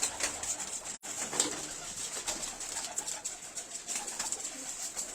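Pigeons for sale coo together at close range, a steady overlapping chorus of soft throaty calls with brief rustling, continuing without pause throughout.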